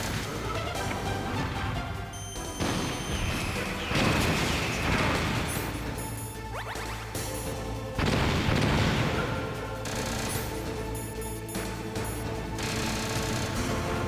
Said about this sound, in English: Stinger missiles.